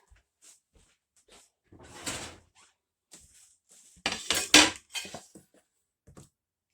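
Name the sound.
getting out a cutting board in the kitchen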